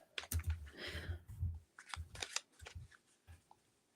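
Clicky keystrokes of someone typing on a computer keyboard in irregular bursts, close and fairly quiet, with no talking.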